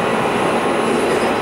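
A metro train at a station on the Almaty metro gives a steady, loud rumble and rolling roar across the whole clip, with no pauses and no voices.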